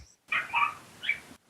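A small dog lets out high, thin yaps and whimpers, three or four quick cries up close with brief silence around them.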